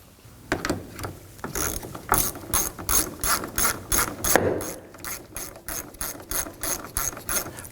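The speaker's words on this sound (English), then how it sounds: "Now installing these here, I do recommend using a hand ratchet" A hand ratchet clicks in steady rapid bursts while driving tail light screws into plastic threaded inserts on a 2018-2024 Toyota Camry, the close ratcheting repeating about a dozen times with no talk.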